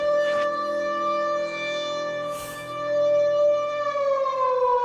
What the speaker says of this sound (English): That's the exact Silent Hill siren.